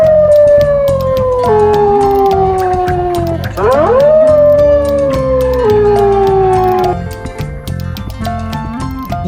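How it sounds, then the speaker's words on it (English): A wolf howls loud and close in long, drawn-out calls that slide downward, with one sweeping rise in the middle, the howl carrying on alone for several seconds before trailing off. "Wolf."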